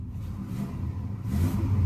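Engine of a 1999 Toyota Land Cruiser with high mileage, running low and steady before rising into a stronger rev near the end, heard close with no talk.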